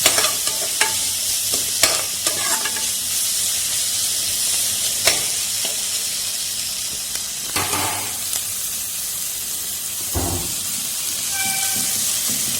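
Onions fry in a pan while being stirred without pause, a loud close sizzle with frequent clattering scrapes of the spoon and a few metallic knocks, no one speaking.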